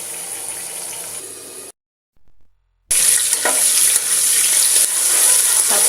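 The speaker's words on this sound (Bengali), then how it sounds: "আর অর্ধেক কড়াইতে দিয়ে দিলাম। গ্রেভিটা সহ তেলের মধ্যে এখন 5 মিনিট থাকবে।" Hilsa fish sizzles loudly in hot oil in a wok along with gravy, a steady broadband frying hiss that cuts out briefly partway, then returns louder with crackling spatters.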